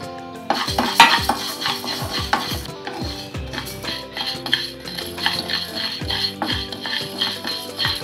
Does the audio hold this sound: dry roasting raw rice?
yes